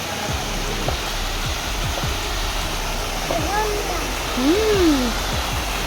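Artificial waterfall pouring water in a steady, close, continuous rush, with voices talking over it and a brief rising-falling tone near the end.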